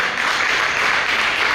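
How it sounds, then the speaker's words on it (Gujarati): An audience at a workshop clapping loudly, a dense, steady wash of applause that stays at a constant level throughout with no pauses or voices. "જોરદાર તાળી બજાવીએ"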